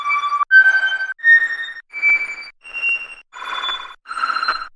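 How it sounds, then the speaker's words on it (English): Harsh synth tones from a bad VST plugin in FL Studio, seven separate buzzy, ringing notes played one after another at different pitches, each held briefly with short gaps between. "Every single key that I press gives me a uniquely horrendous fucking vibration."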